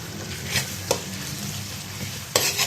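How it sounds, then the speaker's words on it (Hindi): Four chopped green chillies fry in a pan for a mixed vegetable dish, making a steady close sizzle broken by a few scraping stirs of a spoon, with no voice present. "इसको थोड़ा सा अच्छे तरीके से भून लेते हैं हम।"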